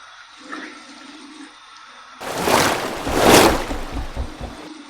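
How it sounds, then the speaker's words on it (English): Cold water gushes from a tap into a sink for a rinse after shaving, starting abruptly after a quiet moment and splashing loudly and close for a few seconds. "here is my cold water rinse"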